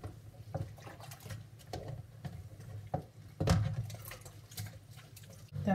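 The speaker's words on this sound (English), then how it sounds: "but I'll just give them a wash as well." Small fridge trays get washed under a running tap, with a steady patter of water and occasional clunks of plastic in the sink, close up and without talk.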